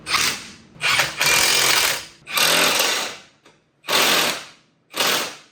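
A Milwaukee power tool, likely an impact driver, fitting heavy-duty Harris metal parts on a Polaris RZR Pro R, revving loud and close in five long rattling bursts separated by short pauses.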